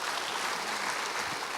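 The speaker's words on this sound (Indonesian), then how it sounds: "Beri tepuk tangan buat Tuhan saudara." A church congregation claps together, a dense, even patter of many hands at moderate distance, brief and steady without voices over it.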